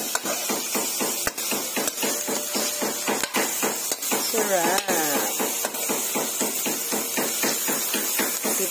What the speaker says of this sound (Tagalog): Nagpupukpuk ng paminta.